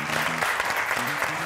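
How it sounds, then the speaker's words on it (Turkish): A studio audience at a competition show claps for a runner-up, a short, dense burst of applause with voices audible underneath. "Alkış istiyorum."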